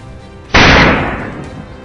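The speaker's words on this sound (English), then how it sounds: "Just as it bursts through the bushes ahead, the gunshot rings out almost simultaneously" A single sharp gunshot as a hunter fires at a charging wild boar in a cold winter forest, a loud close crack followed by a decaying echo.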